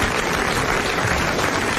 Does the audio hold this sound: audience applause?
yes